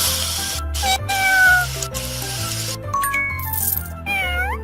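A cartoon cat meows several times in the Power Girls Super City video game, short rising and falling cries over a bouncy synthesized music loop with sparkly game effects.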